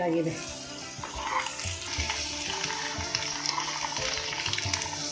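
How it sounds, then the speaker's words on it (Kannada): Boiled eggs frying in a pan for egg gravy give a steady close sizzle with scraping stir strokes, while a voice talks intermittently over the cooking. "ಎಲ್ಲನೂ ಈ ಥರ ಹಿಂದೆ ಮುಂದೆ ನೀಟಾಗಿ ಫ್ರೈ ಮಾಡ್ಕೊಬೇಕು"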